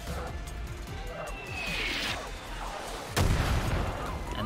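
Mortar fire in Far Cry New Dawn, a dense barrage of game combat noise with a sharp, loud boom near the end over continuous rumbling.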